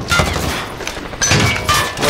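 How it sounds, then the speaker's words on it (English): Video game gunfire rattles out in several loud, dense bursts of rapid shots, close and harsh, with no talk over it. "Taking fire!"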